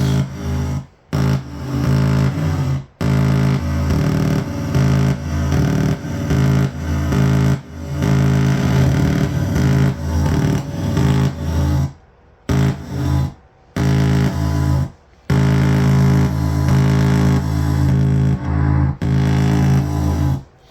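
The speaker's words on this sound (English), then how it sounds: "That's reverse reverb." No-input feedback from a Numark DXM09 DJ mixer, run through a reverse reverb effect, makes loud, droning, distorted tones that swell into the mix. The drones cut off abruptly in short silent gaps and come back in bursts.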